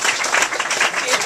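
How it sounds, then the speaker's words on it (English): Audience clapping at a book launch gala, a dense burst of applause with a voice speaking over it. "a round of applause for yourselves"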